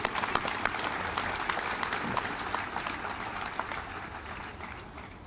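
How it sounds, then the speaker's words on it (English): An audience at a rodeo hall of fame induction ceremony claps steadily. The dense applause stays fairly close and even, then gradually fades. "if we could all clap for one another"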